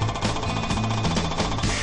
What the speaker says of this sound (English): It is important to maintain this feel as the hammer breaks through the material.